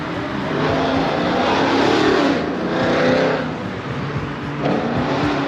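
A loud car engine drones and swells as the vehicle passes close by, with steady road roar throughout.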